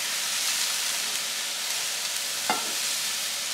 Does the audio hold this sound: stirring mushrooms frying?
yes